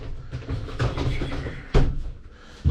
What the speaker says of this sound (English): The showers, the doors operate very smoothly.